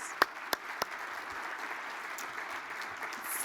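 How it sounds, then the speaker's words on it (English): Audience applause at a cancer summit thanking its sponsors, heard as a quiet, distant, even patter of many hands with a few sharper claps near the start. "Let's give them a round of applause."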